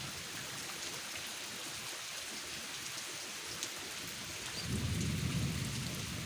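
A long-awaited rain falls steadily with a continuous hiss, and a low roll of thunder rumbles in near the end, all without voices.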